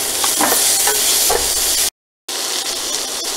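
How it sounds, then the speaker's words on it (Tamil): Onion and tomato frying in a pan, a loud close sizzle with scraping stirs, cut by a brief moment of silence. "இப்போ ஆனியன் நல்லா ஃப்ரை ஆனதுக்கப்புறமா நான் ஒரே ஒரு டொமேட்டோவை போட்டுக்கிறேன்"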